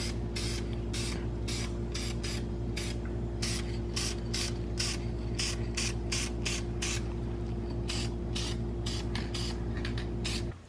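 Short bursts of spray paint hiss in a quick, irregular rhythm over a steady background hum as yellow paint is sprayed onto brake calipers, close and without talk.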